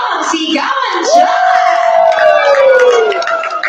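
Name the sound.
wedding guests applauding loudly and cheering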